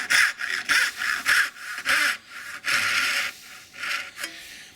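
A fine-toothed hand saw cuts through a pine board in short, rhythmic raspy strokes, about a dozen of them, close and fairly loud, with brief pauses between bursts.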